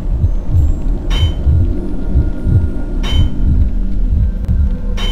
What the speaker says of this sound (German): Herzklopfen.